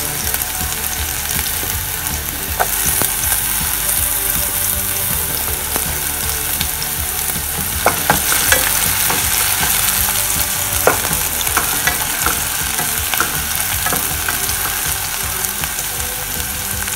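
Onions sizzle loudly in a hot pan for pininyahang manok, a steady close frying hiss broken by scraping and clicking stirs from a utensil throughout.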